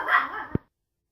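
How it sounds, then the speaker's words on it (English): A puppy gives a short, close yip or bark in a quiet indoor room, one sharp burst followed by silence. "Excuse my puppies."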